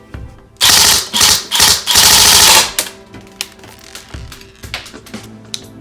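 An Avengers M4 airsoft electric rifle fires several rapid full-auto bursts of sharp clattering shots in quick succession, followed by scattered lighter clicks and taps close by.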